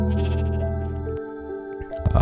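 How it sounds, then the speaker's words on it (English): A sheep bleats in one long, steady, nasal cry close by, with a short rustle and knock at the end and no talking. "Look at this sheep."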